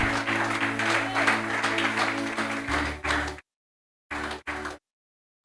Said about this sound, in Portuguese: Alguém está aqui na igreja e pode aplaudir Jesus nesta noite.